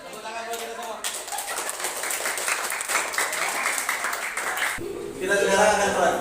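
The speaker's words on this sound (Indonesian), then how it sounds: "Tepuk tangan buat kita semua" A group claps and applauds during a grade eight physical fitness class, dense steady clapping lasting several seconds, then giving way to a voice speaking.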